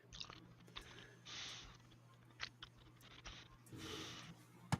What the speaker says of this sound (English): I couldn't hear you over the chewing in the background.